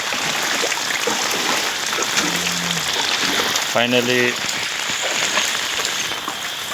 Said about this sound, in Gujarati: જોરદાર વરસાદ છે